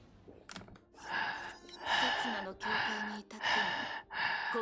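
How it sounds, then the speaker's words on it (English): A streamer breathes deliberately into the microphone in slow, periodic cycles, about four loud, close, breathy exhalations in even rhythm, with no talking. "They wanna hear me breathing, so I'm breathing."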